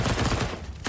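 Rapid SMG gunfire in a Counter-Strike: Global Offensive pro match between Team Liquid and NRG, a dense burst of shots filling most of the second before a brief gap and a final crack.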